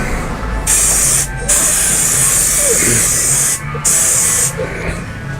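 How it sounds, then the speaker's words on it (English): Aerosol mold release sprays onto a pressure pot in several hissing bursts of differing length, close by, with short pauses between them and a faint background hum. "First thing I'm going to do is I'm going to put some mold release on here."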